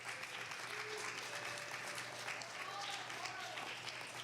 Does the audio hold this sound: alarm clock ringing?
no